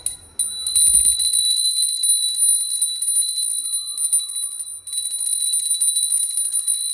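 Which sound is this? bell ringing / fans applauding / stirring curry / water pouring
bell ringing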